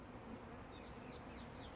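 Steady buzzing of bees and wasps swarming around a hive nearby, with a few louder wingbeat passes sweeping through the drone.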